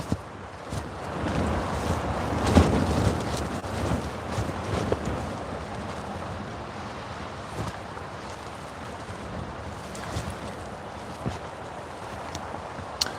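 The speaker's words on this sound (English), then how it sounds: "it's pretty windy right now" Gusty wind buffets a winter hot tent at a campsite, producing a broad, rushing roar with flapping surges and occasional sharp knocks, loudest early on and easing to a steadier blow.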